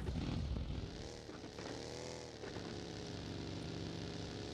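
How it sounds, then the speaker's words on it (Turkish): Airplane flying overhead in the video game PUBG Mobile, a continuous propeller engine drone that swells and fades slightly under loud game ambience, with no speech. "O uçak niye hala oraya gidiyor?"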